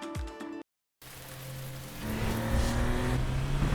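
A car drives on a wet road in rain, tires hissing through water in a steady, loud wash that builds after a short silent gap; a brief musical tone opens it.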